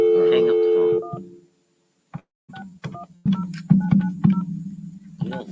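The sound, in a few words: telephone dialing tones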